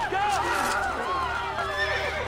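Horse neighing in the video game Assassin's Creed Brotherhood, a loud, wavering whinny sustained across a couple of seconds amid busy game sound, with voices and faint hoofbeats mixed in.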